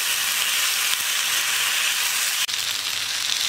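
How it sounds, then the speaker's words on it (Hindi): Chana dal fara fry in a pan with a loud, steady, close sizzling hiss that continues without pause, broken only by one brief dip. "इसके बाद 10 मिनट के लिए फ्राई करेंगे।"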